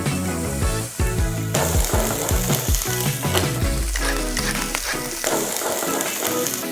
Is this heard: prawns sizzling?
yes